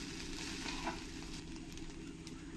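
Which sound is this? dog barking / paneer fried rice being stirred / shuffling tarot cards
paneer fried rice being stirred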